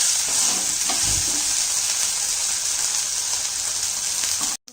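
Ginger garlic paste sizzles in a hot pan while a South Indian boti curry is cooked, giving a steady, loud, even hiss that holds throughout and cuts off abruptly at the end.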